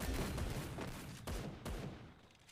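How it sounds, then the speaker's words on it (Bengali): Teammate bot fires in a Garena Free Fire match, producing dense, sustained gunfire bursts with sharp cracks at intervals, heard at moderate level through the game audio. "আমাদের বট ভাই ফায়ার করতেছে।"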